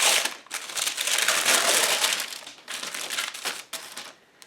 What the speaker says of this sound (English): fold this parchment over, and then I'm gonna squish the cookie dough out.